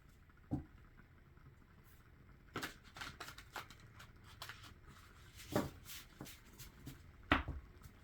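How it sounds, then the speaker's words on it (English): Thick tarot cards shuffled hand over hand, giving quiet, sparse slaps and riffling patters at irregular intervals, close up in a quiet room. "So just kind of do it like this, and then I'll be doing some hand-over-hand shuffling."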